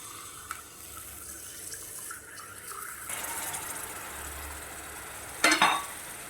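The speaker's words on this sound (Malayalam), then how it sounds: "ഇതിലേക്ക് നമ്മൾ പിഴിഞ്ഞ് വെച്ചിരിക്കുന്ന പുളിവെള്ളം ചേർത്ത് കൊടുക്കും" Tamarind water poured into a pan of fried chilli and coriander for a ginger curry, a steady wet pouring and hissing wash running throughout, ending in a brief louder splash near the end.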